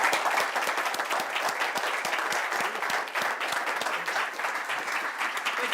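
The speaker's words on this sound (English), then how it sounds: "please give a warm applause to Dr." Lecture audience applauding Dr. John Hagelin at a campus talk, a dense, steady patter of many hands clapping at moderate level throughout, with no voices over it.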